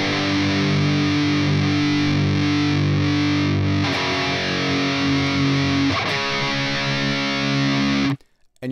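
Heavy distorted electric guitar chugs power chords in a steady rhythm, loud and dense throughout, then cuts off abruptly near the end.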